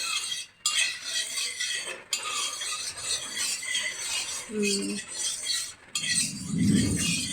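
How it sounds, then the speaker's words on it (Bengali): Mustard oil heating in a pan while being stirred, giving a soft scraping and rubbing texture with a few light metallic clinks and a warmer low rumble near the end. "সরষের তেলটা গরম হোক, একটু নেড়ে নেবো"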